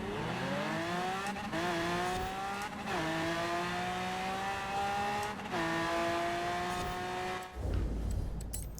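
A race car engine in a drag-racing video game screams up through repeated rising revs and bangs against the rev limiter after each gear change, loud and close, with no voices.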